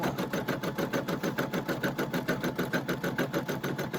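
An embroidery machine stitches a shopping cart coin holder key fob, giving a steady, rapid, rhythmic mechanical whirring and clatter that runs without a break and with no talking.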